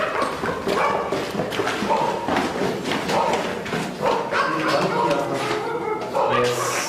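Dogs barking and whimpering in a busy, noisy scene, with repeated yelps under continuous overlapping talk.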